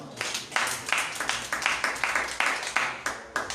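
A church congregation claps for Jesus, a dense crowd of hands falling into a steady, rhythmic beat with a faint voice underneath.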